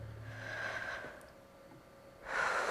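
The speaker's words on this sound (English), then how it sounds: "you have to click in time with her breathing" A character's breathing in a Grey's Anatomy video game rhythm minigame: a long audible inhale, a quieter pause, then a louder breathy exhale toward the end.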